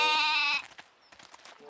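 A cartoon goat in an animated children's show gives one loud, close, harmonic bleat lasting about half a second, followed by quiet, scattered background sounds.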